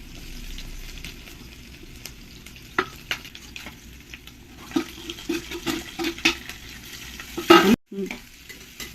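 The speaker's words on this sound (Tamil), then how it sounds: "எண்ணெய் ஊற்றிருக்கிறேன், சோம்பு போட்டிருக்கிறேன், கருவேப்பிலை போடுறேன்." Oil sizzles and crackles as curry leaves and fennel seeds hit the pan, with a few stirring clatters and a sharp scrape near the end.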